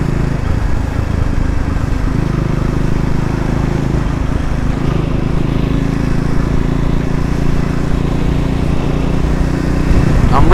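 A Triumph Scrambler 400 X motorcycle engine drones steadily while out on a ride, with a continuous low rumble and wind noise lasting the whole stretch and no pauses.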